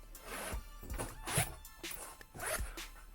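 The zipper on a Mujjo leather sleeve for a 13-inch MacBook Pro is pulled open in several short, close, rasping strokes with brief pauses between them.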